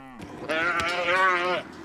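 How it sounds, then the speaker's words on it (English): A single cow on a mountain ranch near Rexburg, Idaho lets out one loud, close, drawn-out moo lasting about a second, heard alone. "Chasing cows in the rugged mountains of Idaho."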